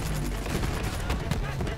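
Grenade launchers thump repeatedly in Borderlands 3 co-op combat, a dense, loud barrage of overlapping blasts with no pause in the noise.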